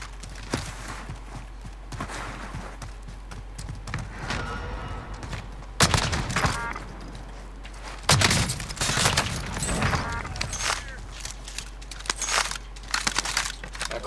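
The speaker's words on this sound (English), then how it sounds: "Cluster strike is coming handy." Cluster strike explosions in Warzone, a series of heavy crunching blasts in several bursts, with scattered gunfire and clattering game sounds between them at moderate loudness.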